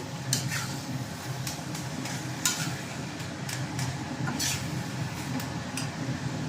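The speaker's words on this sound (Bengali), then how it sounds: "নারকেল কোড়া দিয়ে আমি আর একটুখানি নাড়াচাড়া করবো" Grated coconut and papaya are stirred in a pan, with a faint sizzle underneath and scattered clinks of the spoon against metal at an irregular rhythm.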